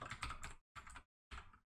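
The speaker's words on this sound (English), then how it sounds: "Hear those mechanical keys?" Close keystrokes on a mechanical keyboard, three short clattering bursts of typing separated by brief silences.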